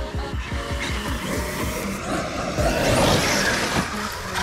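An Arrma Kraton 1/5-scale RC car drives hard and skids, its high-revving motor whining continuously with tire scrub and gravelly grit, loud and close, without speech.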